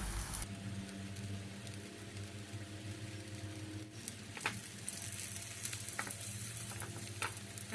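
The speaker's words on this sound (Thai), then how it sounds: "ค่ะกระทะร้อนแล้วนะคะแล้วนำปลาลงย่างได้เลยนะคะ เราจะใส่น้ำมันลงไปเล็กน้อยนะคะ" A fish fries in a little oil in a hot pan, giving a continuous crackling sizzle with small pops and spatters, close and steady throughout.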